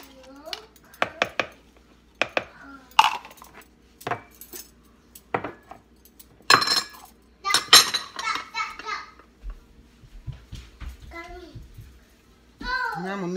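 A spoon clinks and scrapes against a bowl while scooping out a mayonnaise and egg mixture, irregular metallic taps and scrapes mixed with a voice and other speech.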